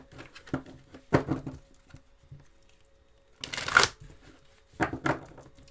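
Tarot cards being shuffled close up in short, quiet riffling bursts separated by pauses, with soft tapping and a faint voice underneath.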